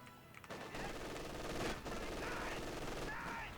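MG-42 machine gun fire in a Company of Heroes 2 battle, a steady rapid rattle of automatic shots under a dense wash of battlefield noise, with a voice faintly underneath.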